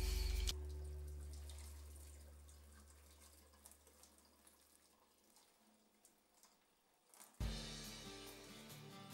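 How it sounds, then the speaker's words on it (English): Boiling water poured over cheesecloth lining a colander while making Cotswold cheese at home: a steady, close splashing gush runs for about seven seconds and then stops abruptly, followed by faint dripping. "I like to pour boiling water over it, about a couple of minutes before pouring the curds,"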